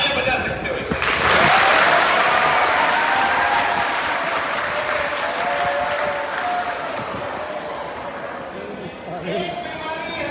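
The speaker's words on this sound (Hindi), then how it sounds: "तालियां बजा सकते हो इसे" A live audience bursts into loud, sustained applause at a Hindi talk or comedy show, a dense wash of clapping that swells early and holds steady, with a few cheers and voices mixed in before it tapers slightly.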